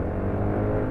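A 2018 Yamaha NMAX scooter engine accelerating, humming steadily and loudly up close, a continuous low drone without speech.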